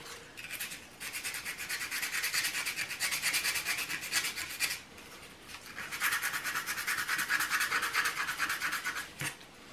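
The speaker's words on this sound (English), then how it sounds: "So what I do is just take a piece of sandpaper. This is 150, and I'm just gonna take it and get all the rough edges off of it" 150-grit sandpaper is rubbed back and forth over a carved antler morel mushroom in quick, raspy strokes, in two long close-up bursts split by a short pause.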